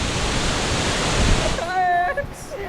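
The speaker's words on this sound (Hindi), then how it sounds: "ये है वाटरफॉल" A waterfall in Dalhousie, Himachal Pradesh, pours with a loud, close, steady rush of water, and near the end a voice speaks over it as the roar eases slightly.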